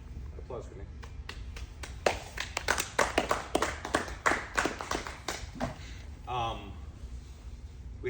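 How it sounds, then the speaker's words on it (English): A small group claps for a colleague during a workplace team huddle, with scattered handclaps building into a brief burst of applause, then tapering off into quiet room noise. "Applause for Nick."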